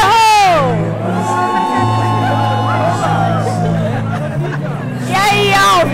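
A studio audience on a Portuguese-language TV quiz show cheers and whoops loudly, a dense crowd roar with shrill whistles and shouts swelling at the start and again at the end, over a steady background tone.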